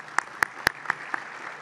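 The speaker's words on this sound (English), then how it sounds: "a quick round of applause as well" Conference audience applauding the staff, a thin run of about five distinct, evenly spaced claps that fade, faint and sparse rather than a full ovation.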